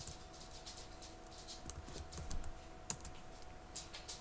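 Quiet, quick tapping on a computer keyboard as a password is entered at a Windows 7 Telnet login, with a steady run of soft, irregular key presses and no talking.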